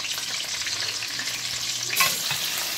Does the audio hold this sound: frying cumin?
yes